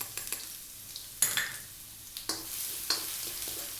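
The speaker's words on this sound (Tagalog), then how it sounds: "We're going to start off by adding the ginger and the garlic." Ginger and garlic sizzle in a hot pan for chicken sotanghon, a steady crackle broken by several sharp stirring scrapes and clinks of a utensil against the pan, close and fairly quiet.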